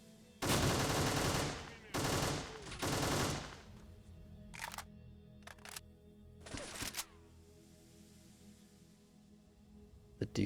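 Heavy Desert Eagle handgun shots in a first-person shooter game, a few loud booming reports in quick succession followed by lighter clicks and clatter of reloading, then sparse quieter handling noises.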